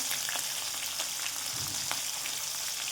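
Asafoetida, garlic and chillies hitting hot oil for a Kathiyawadi-style tandalja leaf dish give off a steady, close, crackling sizzle that runs unbroken throughout, with no voices.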